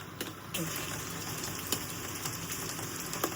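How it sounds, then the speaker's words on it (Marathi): Heavy monsoon rain falls in a village, a steady, even wash of hiss with faint scattered drops. It stays low in level and fairly distant throughout, with no voices. "कारण पाऊस पण जाम पडतोय"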